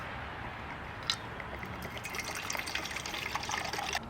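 Water pours steadily into a cooking pot at a camp stove in a continuous close, splashing gush, filling it for boiling penne.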